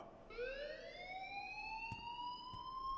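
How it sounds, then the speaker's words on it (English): An electronic alarm in the Life is Strange video game rings as a steady, piercing tone with bright harmonics that slowly climbs in pitch, with two brief clicks near the end. "please turn off that alarm since that's your job"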